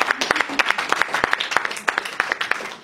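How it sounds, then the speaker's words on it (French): Applause from a comedy club audience, fairly close and loud, with individual claps standing out distinctly in an uneven, sparse rhythm rather than a dense roar. "vous pouvez l'applaudir."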